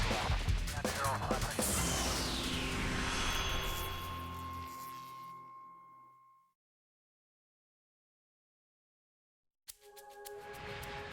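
An Alaska Airlines airliner climbs after takeoff from Puerto Vallarta, a loud jet roar with a sweeping whine that fades away into silence, followed by a sudden return of engine noise.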